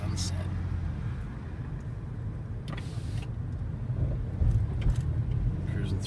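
A car cruising slowly through a residential neighborhood, with a steady low cabin rumble and road noise throughout and a few brief clicks and rustles, heard from inside the vehicle.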